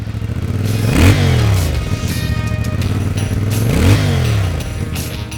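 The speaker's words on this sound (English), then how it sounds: "I've got the Ibex 450 from CFMoto here" CFMoto Ibex 450 adventure motorcycle engine revving up twice in distinct swells, pitch climbing and dropping each time over a steady idle, loud and close with no talk.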